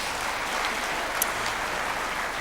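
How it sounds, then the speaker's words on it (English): Warm audience applause at the 2018 WA Training Awards ceremony as honourees return to their seats; moderate, even clapping from a room full of people, slightly distant, with no talking over it. "Give them a warm round of applause as they make their way back to their seats this evening."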